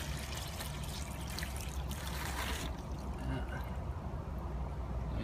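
Water poured while rinsing crystal reef sand: a close, steady splashing and trickling pour that softens partway through into a gentler, continuous flow, with no talk.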